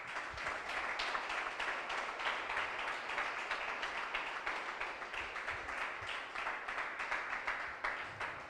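A church congregation claps at the close of a prayer, a steady, even patter of many hands sustained for several seconds at moderate, slightly distant volume, with no voices over it.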